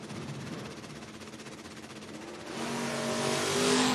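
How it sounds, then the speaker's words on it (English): Drag race cars, including a 2000 Camaro, launching at a Door Wars drag racing event: a loud rumbling engine note that builds into a rising, roaring acceleration, close and dominant, with no talking. "Brandon Michaels in the 2000 Camaro, 696"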